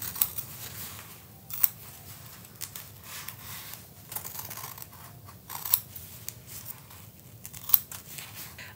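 Quiet, close snips and slicing of scissors through fabric, with soft rustling and crinkling between cuts and no talking.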